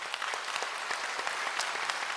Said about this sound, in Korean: 한 박수 한번 하세요.